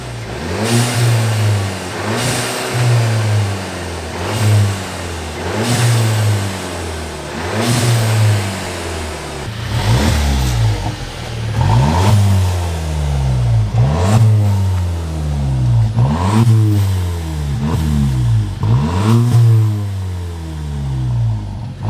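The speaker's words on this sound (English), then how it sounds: "I just want to hear what my car sounds like from a little ways away." A Volkswagen Golf Alltrack with a diverter valve spacer revs repeatedly from a short distance away, each rising engine pull ending in a sharp blow-off valve whoosh as it drops back, roughly ten times in a steady rhythm.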